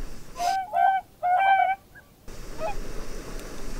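Whooper swans call in a winter landscape near Sarek National Park in Sweden, giving several loud, brassy, trumpeting honks in quick succession, then one fainter call after a pause over a soft background hiss.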